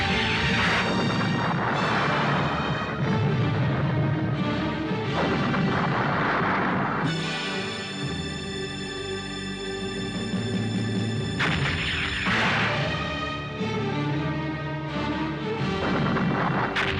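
Heavy booming cannon fire in repeated blasts, loud and rumbling, with sustained ringing tones and clashing noise between the volleys.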